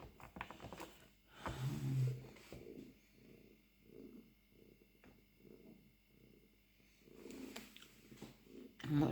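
A cat lying on a person's arm purrs softly and steadily, each rumbling breath cycle evenly spaced, close and quiet, with a few brief rustles and knocks in the background.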